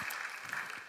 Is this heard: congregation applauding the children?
yes